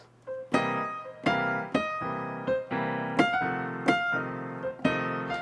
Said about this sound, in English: It's called a chunky pattern, or 4 on the floor,